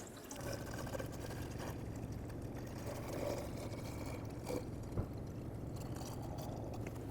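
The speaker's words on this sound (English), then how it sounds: "So add coolant until you get to right about here" Coolant poured into the reservoir of a 2008–2010 Ford F-250 with the 6.4L diesel, a steady, faint gurgling stream of liquid that holds evenly throughout, with one small knock near the end.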